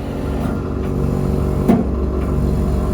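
A noisy old combi boiler starting up, a steady low mechanical hum and rumble running continuously nearby, with a brief soft click partway through.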